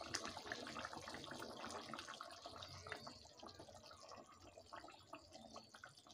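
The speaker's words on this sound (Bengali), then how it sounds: "এবারে ঝোলগুলো ফুটে গেছে, দিয়ে দেবো মাছ।" Bengali rohu fish curry broth with ginger and cumin paste boiling in a pan, a steady dense bubbling and hissing that continues without a break.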